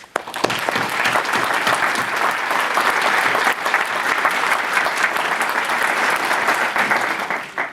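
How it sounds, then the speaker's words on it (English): Family and friends at an ITT Technical Institute commencement ceremony give graduates a loud, sustained round of applause, dense and even from start to finish with no talking over it. "let's give these graduates a round of applause"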